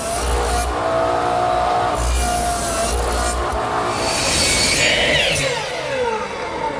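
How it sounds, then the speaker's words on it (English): A radial arm saw set at 10 degrees plows through plywood with a loud, continuous whine and grinding roar that swells and shifts as the blade works through the cut, heard close. "I simply turn my radial arm saw to 10 degrees and plow out between the layout"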